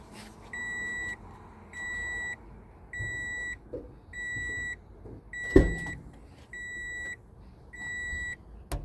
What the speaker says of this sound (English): I have an alarm going off that says RAELYNN'S wheelchair's not locked in.